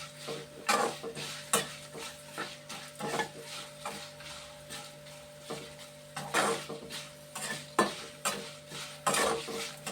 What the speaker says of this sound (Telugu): చూడండి పోపులు వేగుతున్నాయి.